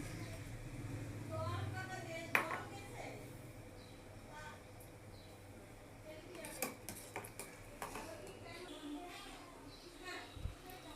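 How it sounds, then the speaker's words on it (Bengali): A spoon stirs powdered milk into milk for Bengali Gobindobhog rice payesh, giving light scattered clinks against the pot amid quiet kitchen background, with a voice talking softly at times. "এবার আমি এই গুঁড়ো দুধটা এই দুধে গুলিয়ে নিচ্ছি"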